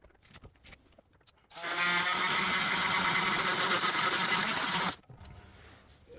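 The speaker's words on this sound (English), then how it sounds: "I've just cut the brake pipe off so that I can now get a socket onto this nut" An oscillating multi-tool cuts through the brake pipe of a 2006 BMW E46. A loud, steady buzzing whine lasts about three seconds, with quieter handling clatter before and after it.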